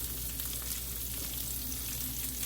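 Potato cakes sizzle steadily in a hot frying pan, a continuous dense crackle of frying that holds at an even level throughout with no talking.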